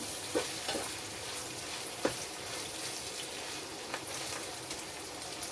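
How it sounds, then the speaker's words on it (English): Ground beef frying in its own fat in a pan after the water has cooked off, a steady frying hiss with scattered sharp crackles and pops, close and fairly loud, no talking. "Here that sort of crackling sound, popping. That's all the water pretty much evaporated and the beef is now frying"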